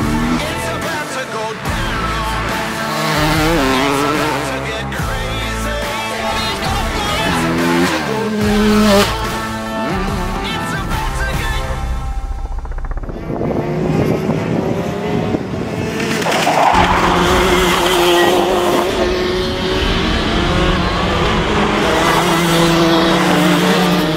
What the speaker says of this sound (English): we're at go-kart track, Whilton Mill karting